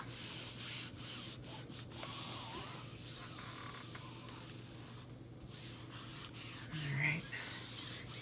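A chalk transfer is rubbed down flat against a wooden surface, giving a steady close scratchy rubbing and sanding sound in continuous strokes, with a constant low hum underneath and no talking.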